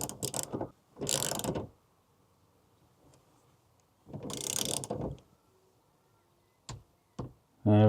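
A ratchet wrench torques an earth cable connection during a camper van electrical fit-out, giving two loud bursts of rapid clicking separated by quiet, followed by a few short isolated knocks.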